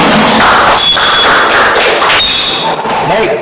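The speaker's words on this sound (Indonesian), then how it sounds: "Tepuk tangan untuk kita semua." Group applause in a classroom, loud close clapping from a small crowd with dense claps and thuds throughout, and voices mixed in.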